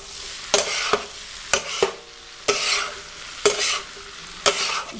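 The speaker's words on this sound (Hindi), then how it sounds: "चंद सेकंड के लिए आपने इसको पकाना होगा कि मिर्चें अच्छी तरह से पक जाएं।" Green chilies sizzle on a hot tawa for street-style tawa pulao, with five sharp stirring scrapes landing roughly once a second over a steady frying hiss, close and moderately loud, no voices.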